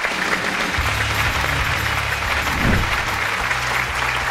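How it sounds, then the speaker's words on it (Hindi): A studio audience at a game show applauds a contestant with continuous, even clapping that fills the room, steady in loudness throughout with a low background hum underneath. "बहुत सारी तालियां फाइगर के लिए"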